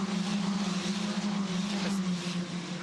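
Formula 4 race cars circle the Sydney track, their engines a steady, droning buzz that swells slightly as cars pass, heard at a middling distance with no talk.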